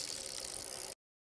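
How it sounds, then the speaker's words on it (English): Bicycle freewheel ratchet clicking in a fast, steady, even run that stays loud and close before cutting off abruptly. "Bicycle."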